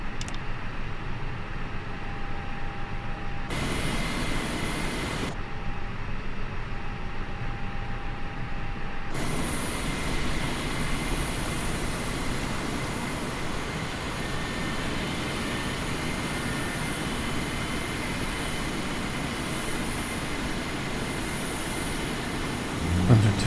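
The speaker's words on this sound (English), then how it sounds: "Engine 1 now starting." Airliner jet engines spool up in Microsoft Flight Simulator 2020 at Fort Lauderdale airport, a steady, continuous turbine whine and roar that swells noticeably partway through and holds loud and even to the end.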